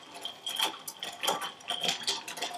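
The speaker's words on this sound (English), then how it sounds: "And we're going to stir this till it gets down to 4." A utensil stirs a vinegar and bicarbonate reaction mixture in a container, making rhythmic scraping clinks, close and moderately loud, repeating about every half second.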